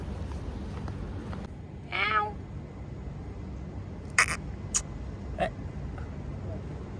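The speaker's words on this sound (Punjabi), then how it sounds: "ਇੱਥੇ ਰਹਿੰਦੇ ਨੇ ਬਿੱਲੀਆਂ" A single short cat meow over steady outdoor street background noise in Dubai, followed by a few faint clicks and taps.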